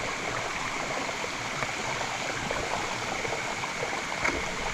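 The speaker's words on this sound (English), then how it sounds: "After those series of small little creek crossings there, pretty easy to not get wet" Steady flowing creek water on the Willow Creek Falls trail near Silverthorne, Colorado, in snowy conditions, a continuous close rushing and trickling wash that fills the whole stretch with no talking.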